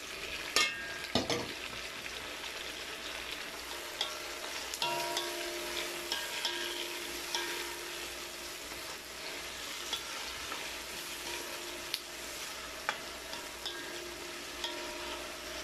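Tomatoes sauté in a pan for a salmon sinigang with miso, giving a continuous soft sizzle punctuated by scraping stir strokes and occasional clinks of the utensil, heard alone and fairly quiet.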